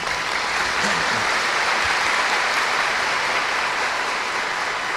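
A church congregation applauds steadily for several seconds, broad dense clapping filling the hall with a faint voice briefly heard beneath it.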